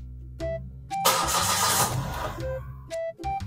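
A car engine cranks and fires up after short electronic beeps from a diagnostic scanner, a burst of starter noise settling into a running idle, close by, with more beeps at the end.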